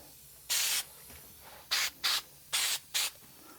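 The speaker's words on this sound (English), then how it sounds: "contact cement type glue that's made for foam and Dacron and fabric, put into a aerosol can." Pro Foam and Fabric aerosol spray adhesive, a contact-cement glue for foam, Dacron and fabric, sprayed from a can while reupholstering a dining chair seat: five sharp hissing bursts, one longer then four short, close and alone.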